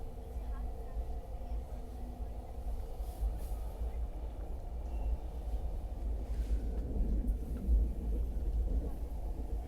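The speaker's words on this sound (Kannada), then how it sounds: "ಈಗ ನಾವು ಚೆನಾಬ್ ರೈಲ್ವೆ ಬ್ರಿಡ್ಜ್ ಕ್ರಾಸ್ ಮಾಡತ್ತೀವಿ" Heavy low rumble of a train crossing the Chenab railway bridge in Jammu and Kashmir, steady and droning, with voices talking over it and a slight swell toward the end.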